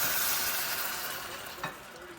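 Milk heats almost to a boil with cauliflower in a pot, giving a soft, steady bubbling hiss close by with a faint stir near the end and no talking.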